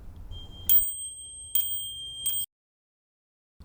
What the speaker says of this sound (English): This little bell is good for making hikers know that you're there